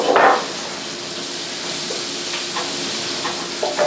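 Pats of butter sizzle in a pan with chicken Marsala, a continuous close hiss of frying broken by a few faint utensil clinks, with no voices.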